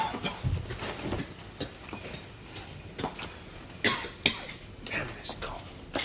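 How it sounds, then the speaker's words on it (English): Several short, harsh coughs and throat-clearing bursts break through a muffled background with some low voices, close to the listener. "Damn this cough."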